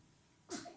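A single short sneeze from a person, close and fairly quiet, one sharp burst rising out of a faint hum of room noise.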